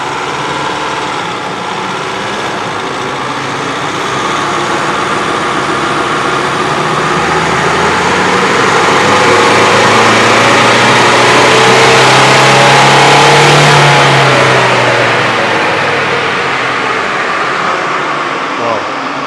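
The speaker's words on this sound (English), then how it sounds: "You've seen what a Dyno runs sound like and look like, but we'll just show you what it does when this pipe sucks in." Nissan NP300 Navara engine running on a dyno, a steady mechanical drone that swells and rises in pitch as revs build toward the middle, then eases back down, with people talking over it.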